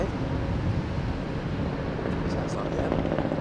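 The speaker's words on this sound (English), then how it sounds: "Chopper overhead." A helicopter passes overhead near London Heathrow Airport, producing a continuous broad rumble that holds steady throughout, with faint talk underneath.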